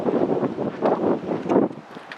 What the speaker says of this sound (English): here I am coming down from Salkantay Pass. It's probably very windy